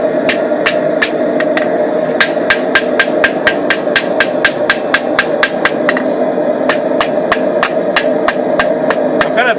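Hammer blows ring out on an anvil as the cooling tip of a forged blade is pinched to a point, a steady run of sharp metallic strikes with a brief pause partway through, loud and close.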